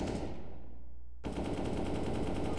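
Rapid automatic gunfire in a shooting video game, a loud continuous dense stream of shots with a brief dip in the middle before the firing resumes at full strength, with no talking.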